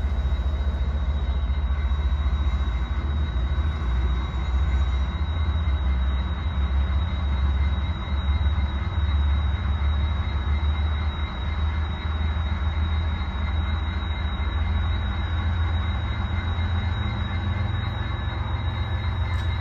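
An HO scale model BNSF train runs on a layout with a steady, continuous rolling rumble and faint high whine, loud and unbroken throughout.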